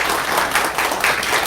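Steady, dense applause from a church congregation claps continuously for the whole short moment.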